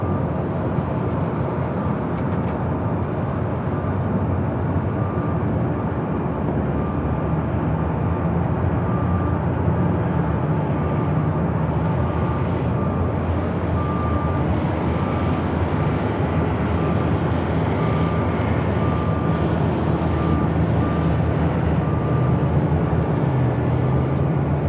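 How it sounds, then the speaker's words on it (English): A Korean Air Airbus A380 takes off from LAX. A broad, continuous jet roar holds steady throughout, heard from a distance under faint background noise. "A Korean A380 Super takeoff."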